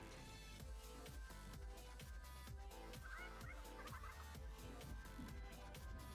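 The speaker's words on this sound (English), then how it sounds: "I hear chickens." Chickens cluck and gobble inside the video game Fortnite, steady and fairly loud over a thumping game soundtrack of repeated low beats.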